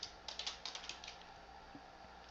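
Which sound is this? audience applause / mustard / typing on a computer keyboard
typing on a computer keyboard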